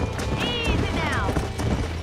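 Horses in a Western video game clip-clop at a run, with a high whinny rising and falling in the middle, over a steady game soundscape and some talk.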